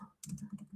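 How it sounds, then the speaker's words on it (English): A computer keyboard clicks in a quick run of soft, close keystrokes, faint and steady, with no voices. "So, I'll just type it in."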